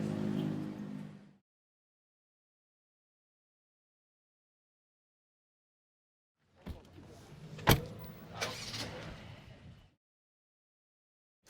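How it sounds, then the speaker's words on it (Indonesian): A car pulls out to leave, a short burst of close vehicle noise with a sharp knock in the middle, coming after a long stretch of silence that follows a brief opening noise. "Ya, mobil mau keluar nih, sorry."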